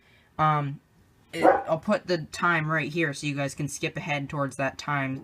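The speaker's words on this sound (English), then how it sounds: "Excuse my disruptive dog." A dog barks at the start, one short near bark, before someone talks steadily over the rest with no further clear barking.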